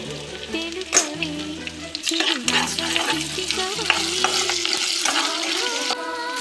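Onions with ginger paste, salt and turmeric frying in a pan for egg fried rice, a continuous sizzle under repeated stirring scrapes, close and steady, with a faint musical backing underneath.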